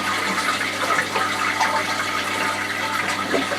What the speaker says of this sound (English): We flushed the loo and it shouldn't fill.